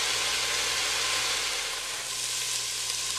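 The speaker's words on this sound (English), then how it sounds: "I've been sauteing my vegetables for about 5 minutes or so" Vegetables for beer cheddar soup sauté in a pot, giving a loud, dense, continuous sizzle with faint stirring underneath and no talking.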